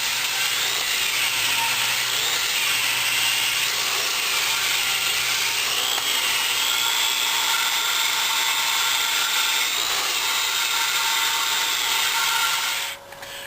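A power drill whines steadily up close while working on a cylinder head, its pitch rising and dipping slightly as pressure changes, then winding down at the end.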